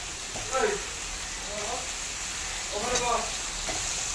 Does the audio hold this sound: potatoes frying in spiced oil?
yes